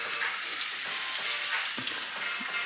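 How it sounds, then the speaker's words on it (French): Food frying and sizzling in a pan in a home kitchen, a steady hissing crackle with faint stirring sounds, close and continuous with no talking. "comme vous voyez, justement, je suis en train de cuisiner"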